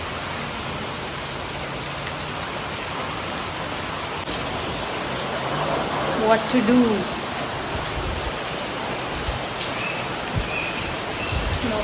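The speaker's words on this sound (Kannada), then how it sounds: "ಚಲೋ ಗಾಳಿ ಬಿಟ್ಟದ, ಮಳೆ ಭೀ ಜೋರೇ ಅದ." Heavy rain pours steadily with wind, in a dense, loud hiss that swells for a moment. A voice speaks briefly over it.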